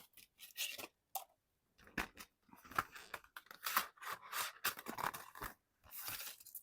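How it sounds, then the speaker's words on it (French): Scissors snip through paper while cutting out a pennant for a mini album, a close series of irregular crisp cuts and rustles separated by short silences. "on va découper le fanion"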